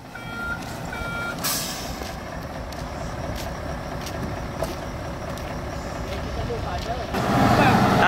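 Trucks at a landfill dumping site, a regular series of reversing beeps over a steady diesel engine rumble, with a brief air brake hiss and the engine growing louder near the end.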